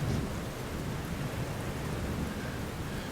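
A thunderstorm sound effect with steady heavy rain and low rolling thunder, a dense continuous wash of noise heard alone.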